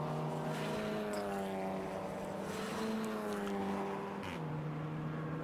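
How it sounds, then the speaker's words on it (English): Race cars in the Tegiwa Club Enduro Championship at Silverstone International head onto the Hangar Straight, their engines rising and falling in pitch as they pass at a moderate distance, fairly faint, with no talk. "Cars heading on to the hangar straight once again."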